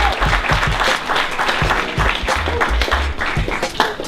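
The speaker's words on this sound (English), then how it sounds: "Can we give a round of applause to everybody that's performed so far?" Audience at a youth community event giving a round of applause for performers, sustained clapping close and loud over deep, thumping low bass, with no talk over it.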